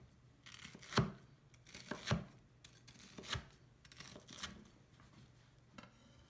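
A knife cuts through a freshly fried panko-coated pork cutlet, giving several crisp, crunchy strokes about a second apart, quiet and close, with no talking.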